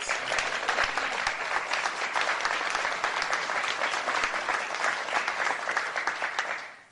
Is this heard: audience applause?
yes